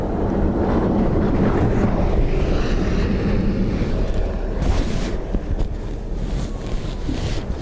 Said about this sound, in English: Wind 270 at 19 with a max of 28.